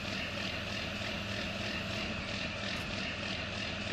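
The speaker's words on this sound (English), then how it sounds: "I love the sound of the old tractors on here." An old tractor's engine in the farming game Farming Simulator 19 drones steadily and loudly with a continuous rumbling hum, with no talking.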